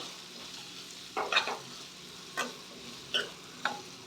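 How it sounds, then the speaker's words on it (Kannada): Capsicum and green peas frying in oil, a quiet low sizzle under several distinct spoon scrapes and taps against the pan, close but soft. "ಇದನ್ನ ಎಣ್ಣೆನಲ್ಲೇ ಚೆನ್ನಾಗಿ ಫ್ರೈ ಮಾಡ್ಕೋಬೇಕು"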